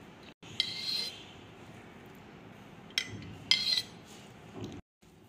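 A spoon clinks and scrapes against a bowl while mixing a potato and spice mixture with lemon juice, in a few short bursts separated by quieter stretches.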